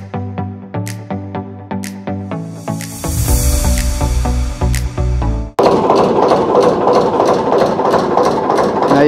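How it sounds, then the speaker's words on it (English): An old Kelvin narrowboat engine chugs in a steady rhythmic beat, then catches and roars into a louder continuous running drone, close and loud, on the Kennet and Avon Canal. "a Kelvin narrowboat engine, and it's about to take off very shortly"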